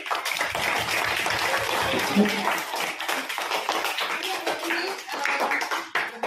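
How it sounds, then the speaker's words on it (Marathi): Children at a school farewell clap their hands in a dense, steady patter of applause that continues throughout. "सगळ्यांनी चौथीच्या मुलांच्या टाळ्या वाजवून आपण अभिनंदन करूया"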